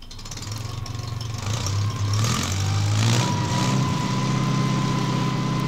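A John Deere 3020 or 4020 tractor engine runs steadily through its governed RPM range, its pitch rising and falling through different speeds, a continuous mechanical drone close to the microphone with no talk.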